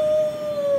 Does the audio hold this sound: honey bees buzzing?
no